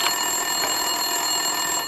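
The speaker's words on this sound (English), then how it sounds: "Winterson's phone was ringing." Telephone ringing in Max Payne 2 (2003), a continuous electronic ring tone that holds steady and loud for the whole stretch, with no voices.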